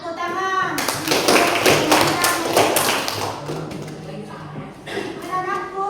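Children in a classroom clap their hands together, a dense burst of overlapping claps lasting a couple of seconds, with voices speaking briefly before and after.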